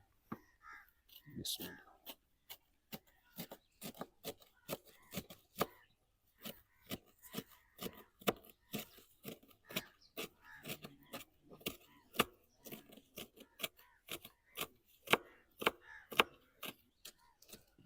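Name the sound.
knife finely chopping fenugreek leaves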